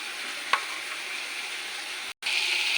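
A spice paste frying in a pan for a fish curry makes a steady close sizzle with a brief clink near the start and a short break in the sound near the end, and no voices.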